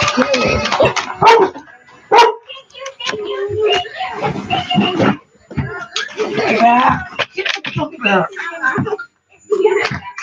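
A dog barks in sharp bursts amid close, lively talk, with a few thumps in the background.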